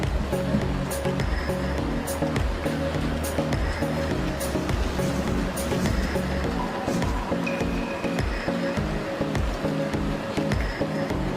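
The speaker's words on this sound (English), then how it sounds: "So water is pouring out from there" Steady rushing water pours from a truck on a flooded freeway in Houston, Texas, a dense continuous roar with scattered splashes and clicks throughout.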